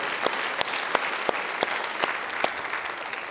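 A church congregation claps in a steady rhythm, sharp hand claps landing about three times a second, bright and close.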